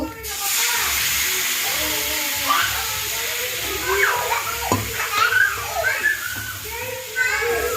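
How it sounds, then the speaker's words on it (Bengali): Water is poured into a hot pan of frying spices, bursting into a loud steady sizzle and hiss that crackles and bubbles throughout, with children's voices faintly in the background. "এবার একটু জল দিয়ে দেবো"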